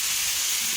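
Boiled red taro greens hit a hot pan, giving a brief, steady, close-up hiss of sizzling.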